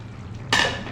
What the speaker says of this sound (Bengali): এবার দিয়ে দেবো আগে থাকতে ভেজে রাখা ডিমগুলো